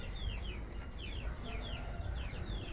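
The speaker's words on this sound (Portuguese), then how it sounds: "Tem um pintinho, pessoal, ó." A small chick peeps on a farm where lambs are nursing. The high, repeated peeps sit over a constant wash of outdoor noise, with no talking.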